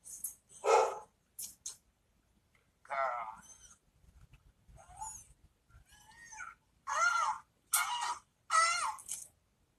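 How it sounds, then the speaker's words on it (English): Several sharp barks come in bursts with pauses between them, fairly close, mixed with a few higher yips. "my dogs are barking"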